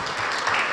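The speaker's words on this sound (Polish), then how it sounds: "przywitajmy oklaskami" An audience at a Polish parliamentary meeting on sobriety policy applauds with dense, steady clapping that fills the whole short moment.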